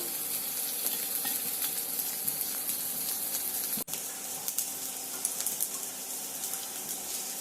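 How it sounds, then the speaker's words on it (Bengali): Chopped green chili, onion and black cumin fry in hot oil, a steady close sizzle with scattered spatula scrapes and one brief break midway. "কাঁচামরিচ আর পেঁয়াজটা দিয়ে তেলে একটু ভাজা ভাজা করে নিচ্ছি।"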